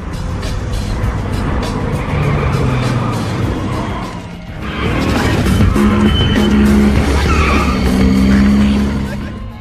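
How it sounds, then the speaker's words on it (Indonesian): Film cars arriving, a Nissan Maxima SE, a VW Jetta, a Nissan Skyline R33 GTR and a Nissan 240SX, with loud engines revving and tyres squealing close by, dipping briefly then surging again under a talking voice. "setelah kedatangan Vince dengan mobil Nissan Maxima SE, Jesse dengan PW Jetta, Leon dengan Nissan Skyline R33 GTR, dan Letty dengan Nissan 240 SX-nya"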